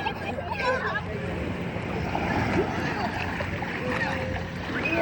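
Steady rushing surf of ocean waves with wind noise, a continuous broadband wash throughout, with faint voices mixed in.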